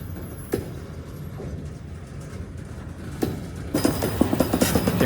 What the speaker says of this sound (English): Can hear the wonderful train noises, the creaks and scratches.